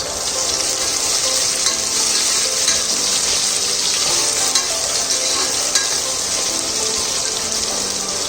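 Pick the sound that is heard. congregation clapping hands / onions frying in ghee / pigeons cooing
onions frying in ghee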